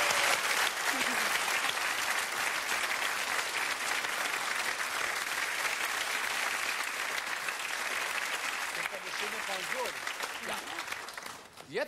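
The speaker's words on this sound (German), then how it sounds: "Herzlichen Glückwunsch und Applaus hier aus dem Studio." Sustained studio audience applause at a German TV quiz show, a dense, steady wash of clapping lasting throughout and fading slightly at the end, with faint voices mixed in.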